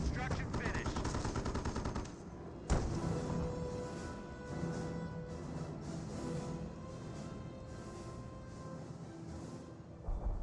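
Gunfire crackles in a World War II video game battle between US and Wehrmacht forces. Dense, rapid bursts fill the first seconds, with one sharp loud shot near the three-second mark, then continue as lighter, more distant firing under layered battle noise.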